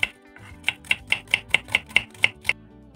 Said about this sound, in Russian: А за это время 2 луковицы нарезаю перьями.